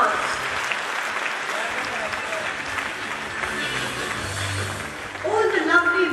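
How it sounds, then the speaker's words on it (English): An audience claps in a big round of applause at a school play in a hall, a steady, dense wash of clapping that carries on throughout, with a few tonal sounds rising near the end. "Can we have a big round of applause?"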